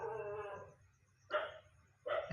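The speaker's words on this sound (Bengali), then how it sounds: "কেন এত রাত্রে কুকুর ডাকতেছে?" A dog barks at night: one drawn-out bark, then two sharper, louder barks about a second apart, all fairly close over a low, quiet background hum.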